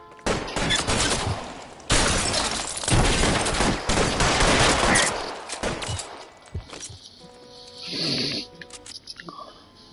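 Dense bursts of gunfire crackle through a shootout in L.A. Noire, volleys overlapping heavily for about six seconds before dropping to scattered, fainter shots and quieter ambience, with voices shouting over the firefight.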